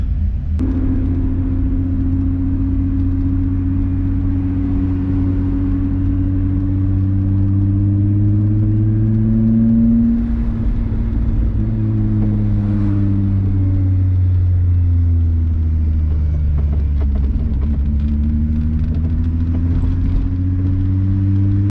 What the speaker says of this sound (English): Got those Autotech 272 cams, and not a bad little idle